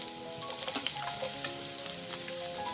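Onion, green chili and curry leaves frying in oil for a Kerala-style soya chunks biriyani, a steady close sizzle with scattered crackles and pops and no talking.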